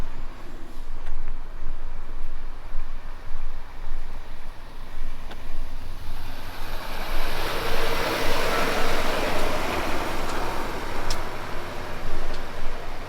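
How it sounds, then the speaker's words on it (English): Steady road traffic passing near Fort William, heard while walking down from the Glen Nevis campsite, forms a continuous broad rumble and hiss of vehicles that swells slightly midway. "you'll hear a lot of traffic"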